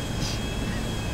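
Private jet in GTA V, a one-engine plane, droning steadily and close with a continuous engine hum and faint airy whine throughout the short moment.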